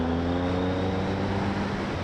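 Exhaust of a Triumph Speed Triple R motorcycle rumbles at a steady idle, a low, dense, continuous throb heard up close.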